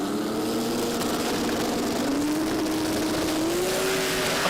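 Drag race cars launch at a Brisbane Jamboree event, one a 2J and the other an LS on 275 tyres, with Hoffman's car lifting into a wheelie; a loud, sustained engine roar rises steadily in pitch as they accelerate away.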